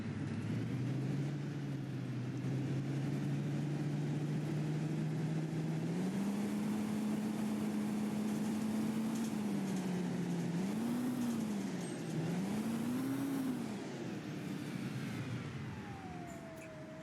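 A Volvo B10M bus engine in the simulator OMSI 2 drones loudly and continuously, its pitch climbing and falling through gear changes as the bus accelerates, then easing off toward the end.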